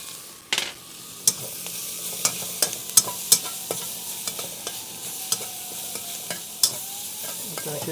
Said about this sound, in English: what I do is I add in some ginger and some garlic at the end so I don't burn it.